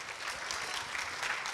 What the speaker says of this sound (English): a round of applause for Meng